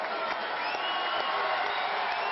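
A street crowd outside the Millau courthouse applauds José Bové with a continuous, slightly muffled wash of clapping and crowd noise, held at an even level throughout.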